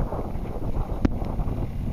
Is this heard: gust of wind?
yes